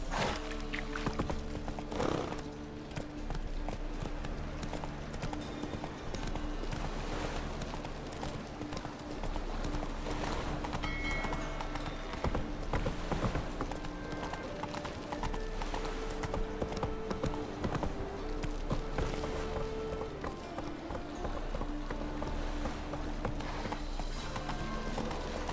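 Horse hooves clip-clopping as a horse is ridden in The Witcher 3: Wild Hunt, a steady galloping rhythm under game music and effects, with a brief neigh and a faint voice.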